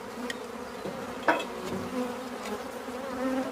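Remnant honeybees left after a hive removal buzz in a continuous steady drone, close and moderately loud, with a brief knock partway through.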